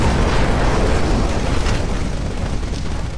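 A Titan's nuclear ejection in the game Titanfall sets off a loud, sustained explosion, a thick roaring boom with rumbling debris that fills the whole stretch and slowly thins toward the end.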